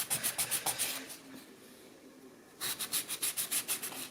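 Nail file rubbing back and forth across a gel nail construction, a fast series of short rasping strokes, then a pause of near quiet before the rhythmic filing resumes, close and fairly soft.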